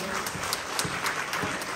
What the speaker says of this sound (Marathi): राजेश कामटे यांच्यासाठी जोरात टाळ्या वाजवा.